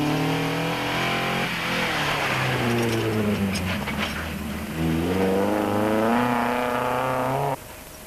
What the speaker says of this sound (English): The Ford sounded strong